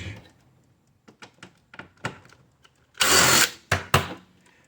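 Impact driver backing out star bit screws from an aluminum part: scattered short clicks and taps, then a loud rattling burst of hammering, followed by two more quick bursts.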